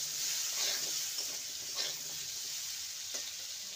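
Potatoes with a little salt and turmeric frying in a pan, a steady close sizzle with a few brief stirring scrapes, no voices.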